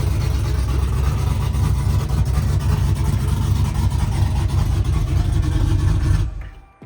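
A 1999–2006 Chevrolet Silverado truck engine with an e-fan conversion and tune idles with a choppy, lumpy rhythm, loud and close, steady for about six seconds before cutting off abruptly.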